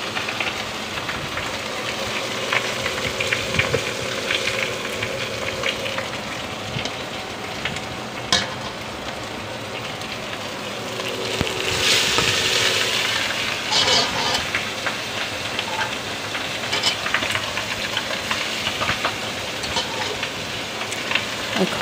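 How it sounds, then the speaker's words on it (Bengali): Fish fry in a pan with a loud, steady, close sizzle, interrupted by scraping and clattering as the pieces are turned. A voice talks intermittently over the frying. "এখন আমি মাছগুলো উল্টে পাল্টে দিচ্ছি।"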